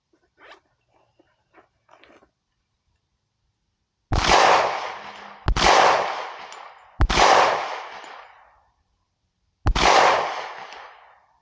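Four loud, sharp gunshots ring out alone at uneven intervals, each with a decaying echo, fired at TQ-19 and bear targets in a backcountry self-defense drill, after a few faint distant pops.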